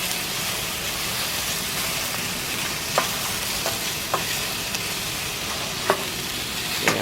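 Mushrooms and onions sautéing in oil in a heavy skillet on a Coleman camp stove outdoors: a loud, even sizzle with a few sharp utensil clicks scattered through.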